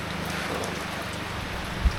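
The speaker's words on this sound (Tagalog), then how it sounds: "kusog ang ulan then hangin which is delikado" Steady, heavy rain with wind roars evenly throughout at night, with a dull low thump near the end.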